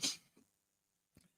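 A single close sneeze bursts out sharply at the start, followed by a couple of faint breathy sounds in otherwise quiet surroundings.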